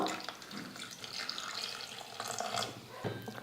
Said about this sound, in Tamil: வாழைக்காய் வேக வைக்கிறதுக்கு இன்னும் கொஞ்சமாக தண்ணி சேர்த்துக்கிறேன்